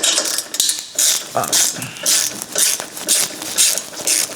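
Hand tools work loose V-band clamps and screws on a twin-turbo Audi R8 exhaust, giving repeated bursts of ratcheting clicks in a regular rhythm, close and fairly loud, with no talk over them.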